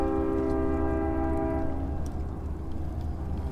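A small passenger train passes nearby, its horn sounding loudly at the start and fading out before the two-second mark, leaving a steady rumble of rolling wheels, with no talking.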